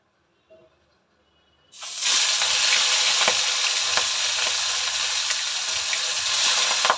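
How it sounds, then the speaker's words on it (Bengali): Large freshwater prawns, salted and coated with turmeric, drop into hot oil after a brief quiet moment, bursting into a loud, sustained sizzle with occasional crackles and spatters that continue steadily. "এবার মাছগুলো একটু ভাজা করে নেব"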